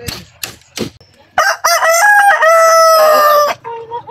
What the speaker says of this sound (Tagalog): Manok yan o.